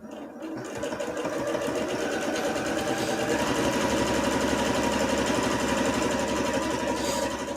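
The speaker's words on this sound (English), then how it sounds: "I'll stitch close to the stitches and then trim the excess" Steady, continuous whir of a sewing machine stitching a seam on pajama pants, running close and loud for the whole span without pauses.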